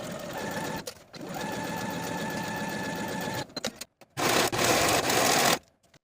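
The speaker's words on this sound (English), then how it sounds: "Now we can go back to our sewing machine and sew both of our side seams with a 3/8 inch seam allowance." A sewing machine stitching the side seams of a tank top at a 3/8 inch seam allowance, running in two loud, steady bursts with brief stops between them.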